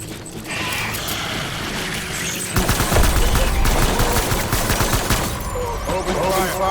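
Rapid machine-gun fire in Death Stranding starts after a quieter stretch, then hammers on as a dense, loud, continuous rattle of shots with some echoing impacts.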